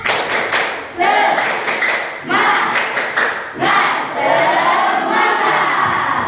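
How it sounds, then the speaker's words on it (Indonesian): A classroom of students performs a rhythmic spirit clap chant, bursts of loud group clapping in patterned beats alternating with shouted voices in unison, energetic and close. "Tepuk semangat."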